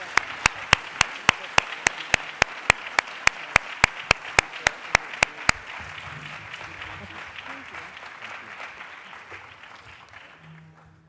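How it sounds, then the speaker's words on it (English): An audience applauds a panel discussion at a Kerner Commission anniversary event. A run of sharp, evenly spaced claps leads into broad, sustained applause that slowly fades out. "I am going to ask for a round of applause for this extraordinary panel"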